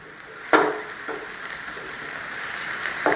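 Egg bhurji stirred gently in a frying pan, a continuous hiss of frying with a few soft scraping strokes of the spoon spread across it, close and steady.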